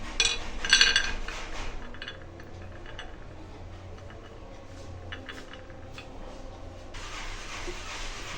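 A plate is handled on a kitchen counter while almonds are placed for gur patisa, giving a few clinks of dishware near the start and faint light taps afterward, with little else heard.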